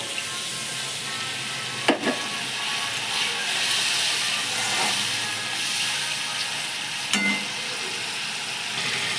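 Ginger-garlic paste hits hot oil with chilli powder, salt and turmeric for a bhetki fish biryani, giving a bright, steady sizzle and hiss up close, with a couple of sharp clinks from stirring.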